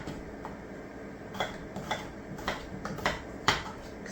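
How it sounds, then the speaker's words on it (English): Knife chopping white Yukon Gold potatoes into roughly inch-and-a-quarter pieces on a cutting board, a series of soft, irregular taps over a faint kitchen hum. "And then we're going to get to chopping."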